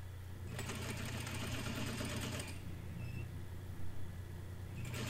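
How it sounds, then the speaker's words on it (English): Sewing machine running steadily while stitching a shirt seam at half-inch allowance, a continuous close mechanical whir for about two seconds, then a pause and a brief restart at the end. "Then sew at a half of an inch seam allowance."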